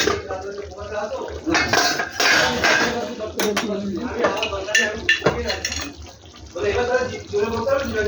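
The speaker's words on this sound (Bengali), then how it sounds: "এবার ঢাকনাটা খুলবো।" A metal lid comes off a cooking pot of Bengali rohu fish curry, with clattering pot-and-utensil clanks over a steady kitchen sizzle while a voice talks alongside.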